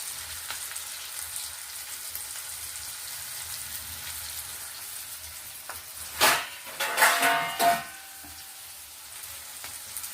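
Brinjal curry simmers in a pan with a soft, steady sizzle, broken by a few louder bursts of stirring and spattering near the end.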